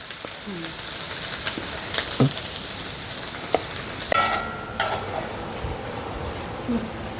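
Chundanga mezhukkupuratti, a Kerala turkey-berry stir-fry, is stirred in an uncovered pan, with a steady loud sizzle broken by scraping strokes and occasional metallic clinks of the spoon against the pan.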